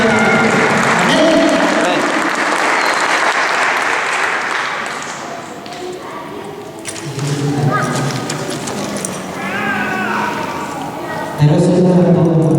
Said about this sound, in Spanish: vamos a dar un fuerte aplauso al Señor